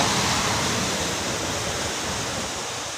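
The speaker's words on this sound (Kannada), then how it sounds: "ನೀರಿನ ರಭಸ ನೋಡಿ ಹೆಂಗೆ ನೀರಿನ ರಭಸ" Rushing water flows loudly and continuously through a canal at the Bagur–Navile tunnel, a dense steady roar of fast-moving water with no pauses or voices.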